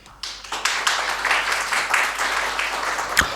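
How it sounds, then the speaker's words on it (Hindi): An audience at an annual prize distribution ceremony breaks into applause, a steady wash of many hands clapping that builds quickly and carries on evenly, with one louder tap near the end. "उनके लिए तालियां."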